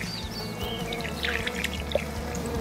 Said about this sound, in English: I'm going to give it a final little water with what's left in my bucket.